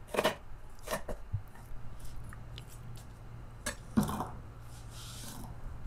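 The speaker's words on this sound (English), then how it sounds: "dice that up nicely. We don't want slices. We definitely want dices on these" A knife dicing vegetables for chicken fried rice, with a few sparse, quiet cuts and taps on a board over low background hum, near and soft.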